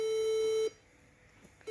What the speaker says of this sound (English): It's just a beep